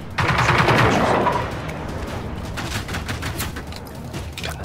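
Gunfire in the video game Generation Zero, a loud dense burst of rapid shots at the start giving way to a continuous rattle of quieter overlapping fire.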